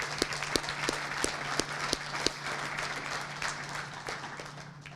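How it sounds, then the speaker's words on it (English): Guests at a collegiate athletics graduation brunch applaud a team, with a few sharp nearby claps standing out over a softer spread of clapping across the room and a steady background hum. "Let's give this group a round of applause."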